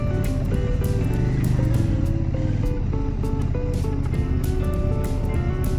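A 2024 CFMOTO 800NK motorcycle, built around a KTM 790 engine, runs loud and close with a steady, deep mechanical drone and shifting tonal layers throughout.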